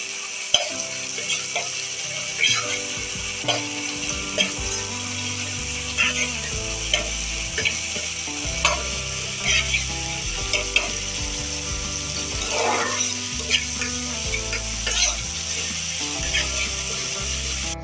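Onions for masala eggplant fry to golden brown in a pan, a dense sizzle with repeated scraping stirs, layered over a steady background of music.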